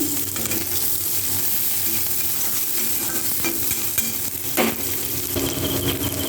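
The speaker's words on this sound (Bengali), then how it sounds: "আর আদা রসুন কুচি, আর দিয়ে দেবো কয়েকটা চেরা কাঁচা লঙ্কা। এবার সমস্তটাকে আমি ভেজে নেব" Chopped ginger, garlic and slit green chillies fry in hot oil, a steady close sizzle running throughout with occasional scrapes and clinks of stirring in the pan; no voices.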